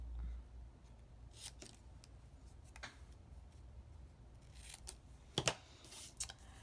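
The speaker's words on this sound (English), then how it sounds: "And then I cut the black piece of paper underneath it," Scissors snip through a sheet of black paper being trimmed into a slightly larger mat behind a card sentiment, giving a few quiet, scattered crisp cuts that grow sharper near the end against a soft background hiss.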